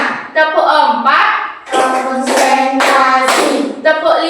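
A primary school class plays a rhythmic clap game in the classroom, with quick bursts of claps mixed with children's voices chanting together.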